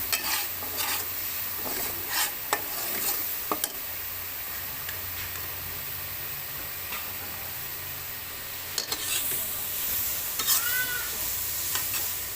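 Spiced dal mixture sizzles and fries in a pan while a spoon stirs it, scraping and clicking against the metal in scattered taps over a steady close crackle.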